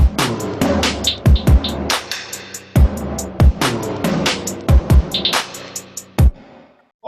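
Toms and drums playing together in a Logic Pro X track, loud punchy tom hits and kicks landing in a driving pattern over a busy, rattling beat, then stopping abruptly near the end.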